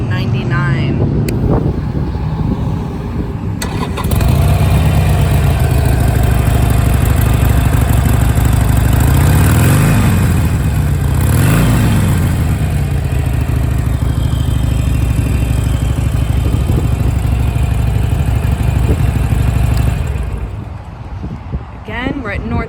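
A 2020 Harley-Davidson Sportster Iron 883 idles with a deep, loud, pulsing rumble, rises in several revs with swooping pitch, then settles back before cutting off near the end; a voice talks over it.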